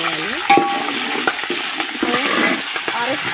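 About ten green chillies for a curry sizzle and spit in hot oil in a pan, a loud, continuous frying hiss with scattered pops and occasional stirring scrapes, close by.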